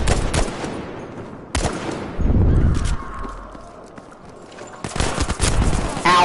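Hip-fired M1 Garand rifle shots in Battlefield V, loud sharp cracks in a few separated bursts with quieter game ambience between them.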